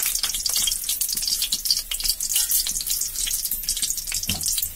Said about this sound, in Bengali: এবার পাঁচফোড়ন দিয়ে দেব